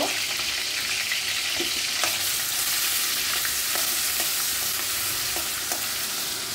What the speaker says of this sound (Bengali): তেলটা গরম হয়ে গেছে। এবার দিয়ে দেব পেঁয়াজ কুচি।